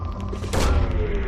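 A probe launches in Mass Effect 2 as a single sharp burst that blooms halfway through, standing over a steady low hum of ambience.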